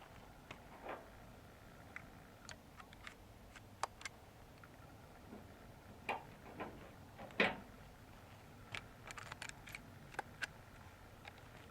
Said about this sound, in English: Load a couple more rounds.